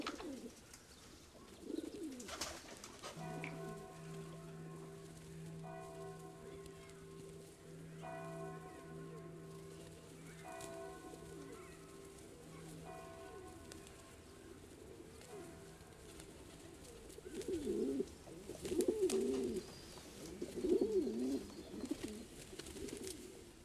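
Pigeons coo in a steady, overlapping chorus with soft repeated calls, while a faint bell-like ringing tone sits in the background and a few louder flutters and rustles come near the end.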